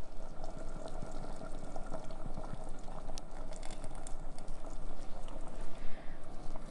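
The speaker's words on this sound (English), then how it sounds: "Whisk that together." Heavy cream and cornstarch are whisked together inside a 3-quart Instant Pot of butter chicken with sautéed onions and peppers. Quick, rhythmic taps and clicks of the whisk ride over soft bubbling liquid, up close and continuous.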